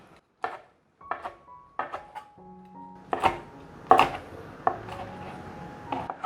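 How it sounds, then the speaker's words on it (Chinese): A knife chops soaked, softened tofu skin into short strips on a board, sharp separate knocks at an uneven pace, some ringing faintly, with quiet gaps between cuts. "腐竹泡软了，来切，把腐竹切短点"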